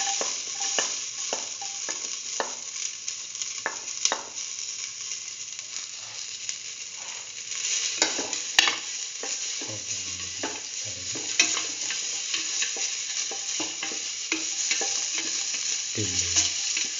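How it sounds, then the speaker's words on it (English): Onion pieces sautéing in hot oil for a curried mustard chicken in coconut milk, a constant bright sizzle with repeated stirring scrapes and soft clatters of the spoon in the pan. "Keep on sauteing and mixing. Saute and mix thoroughly."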